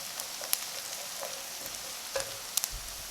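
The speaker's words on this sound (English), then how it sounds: "Just cook the garlic for a minute" Garlic frying in oil in a pan, a faint, steady crackling sizzle with occasional sharp pops, heard alone at low volume.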